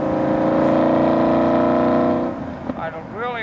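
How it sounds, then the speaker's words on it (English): 2008 Aston Martin Vantage exhaust under acceleration, a loud sustained engine drone that rises and then drops off, followed by brief revving with a voice talking over it. "Listen to that exhaust."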